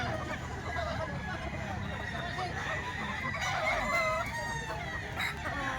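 Roosters crow and chickens cluck at a busy market in the grotto area, steady fowl calls layered over crowd babble and a vendor's voice.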